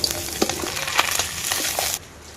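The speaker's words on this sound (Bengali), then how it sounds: "একে একে সব মাছ ভেজে নেব।" Fish frying in a pan of hot oil in a home kitchen in the Sundarbans: a steady close sizzle with soft scraping stirs, cutting off abruptly near the end.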